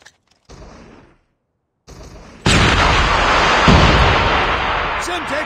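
A frag grenade blast in the COD Mobile shooter game: a loud, broad roar erupts about halfway through and sustains to the end, after quieter game noise and a brief gap.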